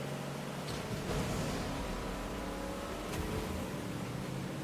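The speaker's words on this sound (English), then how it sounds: "the audio on these boats is just way too loud though" A loud, steady motorboat engine drone in Fortnite with a high hiss runs throughout, the motor holding a constant pitch with slight surges.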